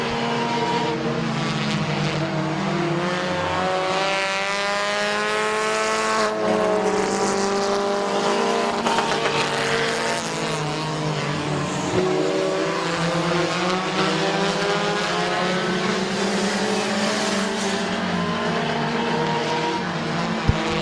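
Race cars lap Midvale Speedway, engines roaring loud and continuous, their pitch swelling and falling as cars pass, with a brief hint of tire scrub in the turns.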